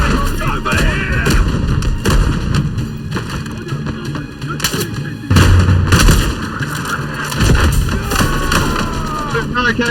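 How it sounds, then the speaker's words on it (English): Artillery fire during a World War One Gallipoli battle in a video game, repeated sharp booms and blasts over constant loud battlefield noise, with voices shouting amid the chaos. "More artillery coming on their side."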